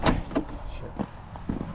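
A stuck door on a Chevrolet K3500 dually pickup truck is forced open on a cold winter day, giving a few short clunks and thumps, close and moderately loud, with faint speech-like sounds between them.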